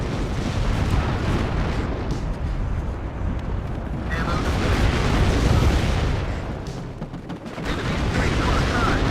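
Enemy artillery strikes in the war strategy game WARNO, a dense and continuous rumble of booms and crackling blasts that rises and falls, loud throughout, with a brief dip near the end.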